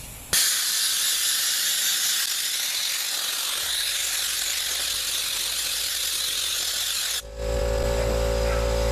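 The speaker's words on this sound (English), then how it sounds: "I'm using the big air compressor for this in case you hadn't noticed." A big air compressor nozzle blows a loud, steady hiss of air for several seconds, then cuts off as a lower mechanical hum takes over.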